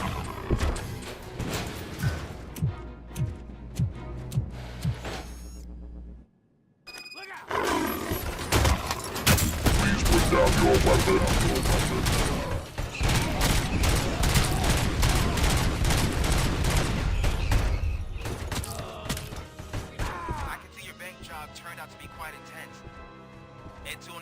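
Enemy gunfire in the video game RoboCop: Rogue City, loud dense bursts of shots and impacts filling most of the stretch under busy game music and effects, with a brief lull before the barrage.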